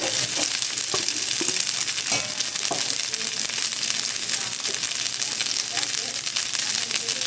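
Chopped garlic hitting a hot stir-fry pan of chow mein noodles, a loud steady sizzle and crackle of frying with occasional stirring scrapes, continuous throughout.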